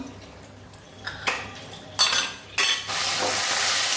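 Quiet kitchen clatter and a few utensil clinks lead into a bright, steady sizzle of fish frying in hot mustard oil.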